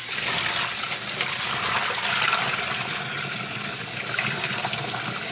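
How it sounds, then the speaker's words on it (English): Running water pours steadily over dyed fabric as soap is rinsed out, a constant close splashing hiss with no talking. "let's rinse all that soap out"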